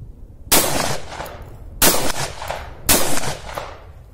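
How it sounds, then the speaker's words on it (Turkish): A Hugsan pump-action shotgun fires three loud, sharp blasts in quick succession, each about a second apart with a short ringing decay, heard close up with no talking. "Vursan'la seri atış"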